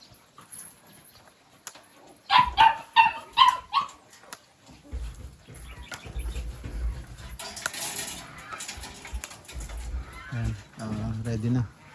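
Several dogs bark, yip and whimper at feeding time, a burst of barks early on followed by scattered whines and rustling, with people talking nearby.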